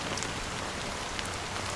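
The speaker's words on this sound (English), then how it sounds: "But it's still raining." Steady rain falls in the game Honkai Star Rail, a dense, even hiss of drops pattering on surfaces, continuous and fairly loud with no voices.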